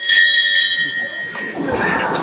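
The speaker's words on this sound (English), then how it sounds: "we will ring the bell to signal the end of the round" A single boxing-style bell strike marking the end of a debate round rings out and decays at the start, followed by a voice speaking.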